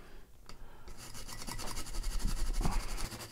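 An old nylon brush scrubs 91% isopropyl alcohol over rosin on a circuit board from a 1986-89 Corvette HVAC controller, a fast, close, continuous bristly scrubbing that builds after a brief pause.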